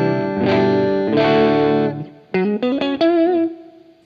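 Electric guitar run through a DryBell The Engine pedal at half volume, giving sustained distorted chords followed by a string of short, separate picked notes that ring with slight modulation, loud and alone.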